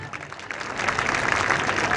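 An audience claps at the inauguration of a new school building in Vihar village, Gujarat; dense applause swells from moderate to fuller and holds steady over two seconds.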